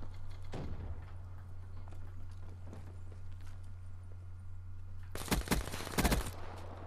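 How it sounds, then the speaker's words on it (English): Shotgun gunfire from a video game, a quiet passage with a low hum and a faint shot, then a rapid loud burst of blasts close by near the end. "Oh my god, that's a shotgun."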